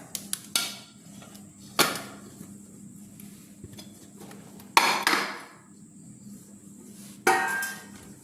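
Ragi kalathappam being moved into a dish makes a few sharp, separate knocks and clatters spaced a second or more apart, close by and fairly loud over a quiet kitchen background.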